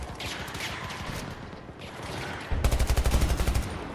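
Rapid gunfire in a shooter video game, scattered shots through the first half, then a loud, fast burst of about a dozen evenly spaced rounds near the end, with no talk over it.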